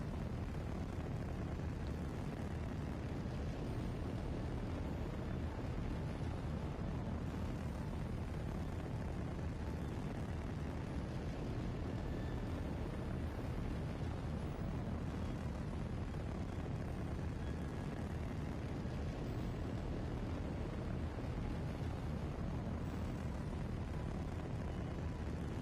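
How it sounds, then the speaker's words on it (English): Loud, continuous rocket engine roar from a spaceflight game on a mission toward Duna, a dense rumbling blast that holds steady for the whole stretch with no talking over it. "the engines are very loud. Very loud indeed."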